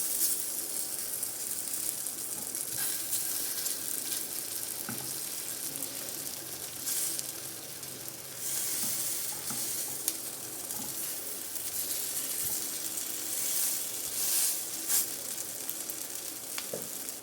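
Banana cutlets frying on an iron tava give a steady, close sizzle with a bright, hissing top. It runs unbroken throughout, with a few faint clicks and stirring touches and no one talking.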